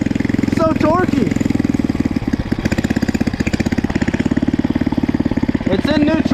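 A go-kart engine idles in neutral in snow, a steady low mechanical chug running throughout, with a voice talking excitedly over it near the start and end.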